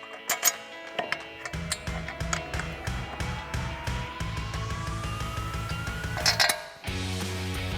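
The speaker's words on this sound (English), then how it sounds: "So now we'll grab our caliper off the hook and slide that over the rotor. And then start threading in your bolts." A brake caliper and its bolts are fitted onto a Jeep Wrangler JK front hub and rotor, giving off metallic clinks and clanks. Steady background hum with an electronic tone rising slowly underneath, and a sharp burst of clatter near the end.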